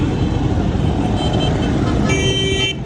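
Bus moving through dense city traffic in Karachi, with a loud, steady engine and road roar and a sustained horn blast near the end, all close by and with no talk.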